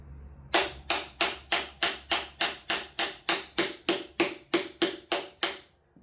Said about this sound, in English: Here, I use this other hammer.